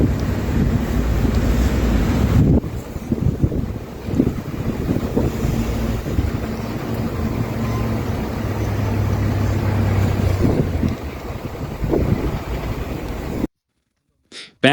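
Howling snowstorm wind in Capracotta, Molise, during a blizzard that dropped 1.5 meters of snow: a loud, steady, roaring rush with gusty swells that cuts out abruptly just before the end.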